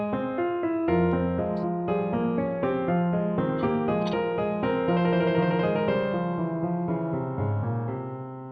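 Three-part music piece played over the internet with the parts arriving out of sync, tonal instrumental notes overlapping in a slightly staggered rhythm at moderate volume.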